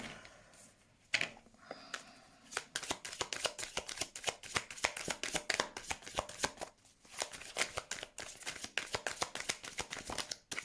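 Tarot cards shuffled by hand before a reading, a steady run of quick papery riffles and soft slaps that keeps on close up with no voices over it.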